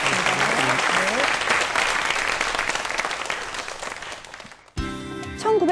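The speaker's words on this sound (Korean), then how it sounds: "여러분 큰 박수 부탁드리겠습니다" An audience claps loudly for a rocket scientist at a science lecture, a dense round that gradually fades and then cuts to quieter sound with a brief musical tone.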